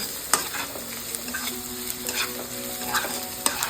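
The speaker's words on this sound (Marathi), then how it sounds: "बारीक चिरलेले गाजर टाकते मी त्यामध्ये एकदम फाईन त्याची चिरलेला आहे मी तो पण चांगला परतून घ्यायचा" Finely chopped carrots sauté in a pan for veg Manchurian, with a close, steady sizzle broken by frequent clinks and scrapes of a stirring spoon.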